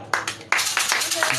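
A church congregation claps in a quick, uneven burst during a worship service, several sharp hand claps close together over a short moment, with voices mixed in.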